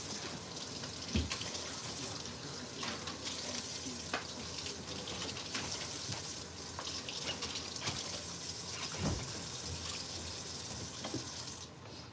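Tap water runs steadily into a sink as someone rinses out their mouth indoors, a continuous close splashing hiss with a few brief louder spurts, no talking.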